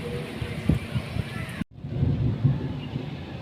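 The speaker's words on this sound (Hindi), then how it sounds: "आज लाहौर में बहुत ही तेज़ बारिश हुई" Heavy rain pours down in Lahore as a constant, close, rushing downpour with some wind noise and gusty thumps. It cuts out abruptly for an instant partway through, then resumes just as dense.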